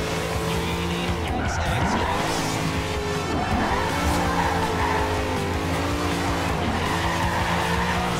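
A car in the racing game Forza Horizon 2 slides sideways off-road, engine droning loudly while tires screech in repeated long skids.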